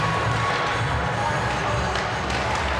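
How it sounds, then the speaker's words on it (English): Steady murmur of a crowd in the Rockets student section at a high school boys varsity hockey game on ugly sweater night, continuous and fairly loud with scattered voices and thuds. "we got a good crowd already in the Rockets student section"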